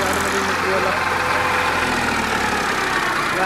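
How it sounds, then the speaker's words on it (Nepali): A tractor engine runs nearby as the tractor is driven out, a loud, steady rumble with voices talking over it. "हाम्रो गुरुजीले ट्र्याक्टर निकाल्नु भयो फाइनल्ली"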